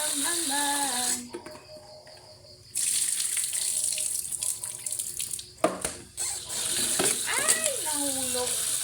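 Tap water runs into a sink while food is washed, a loud steady splashing that cuts out briefly and resumes, with clattering and faint voices mixed in.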